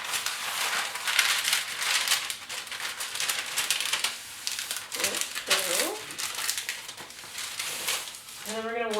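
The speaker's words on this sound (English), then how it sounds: "We're going to make parchment circle rounds for the bottom of our pan." Parchment paper crinkles and rustles while being folded into a triangle to make a cake pan liner, continuous close crumpling with uneven bursts, and a voice speaks over it.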